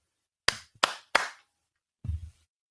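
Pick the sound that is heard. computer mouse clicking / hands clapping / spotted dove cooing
hands clapping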